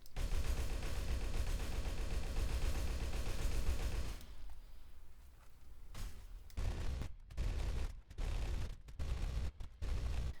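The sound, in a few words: weapon gunfire in the video game Darkest Days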